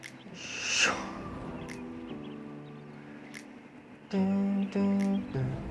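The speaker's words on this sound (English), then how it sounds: "Do you hear the ambience, the birds?" Bird calls sound in an outdoor ambience track, with a hooting call early on and louder tonal calls near the end over a faint steady background.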